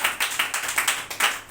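A church congregation claps in unison during a Sunday service, giving about eight sharp, fairly loud claps in a steady rhythm with no talking.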